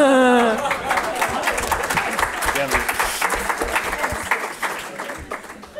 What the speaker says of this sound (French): j'ai entendu là-bas quelques applaudissements